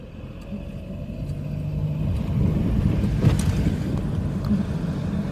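Steady drone of a 1987 Dodge Aries Wagon engine during a test drive, rising gradually as it revs, mixed with road and wind noise inside the car and no talk.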